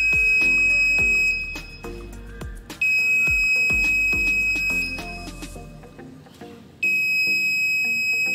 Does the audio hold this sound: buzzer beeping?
yes